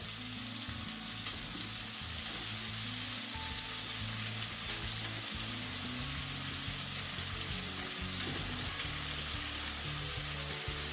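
A steady, close sizzle of lamb and chicken mince frying in a karahi with freshly added tomatoes, a continuous bubbling hiss with faint stirring and no voices.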